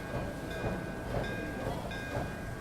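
A train running, heard from inside a third-class railway carriage, with steady rumble, rhythmic wheel clacks and a faint high whine throughout.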